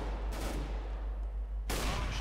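Gunfire from Counter-Strike: Global Offensive gameplay: a burst of rapid shots near the start, then a steady rumbling background, and another loud burst of fire near the end.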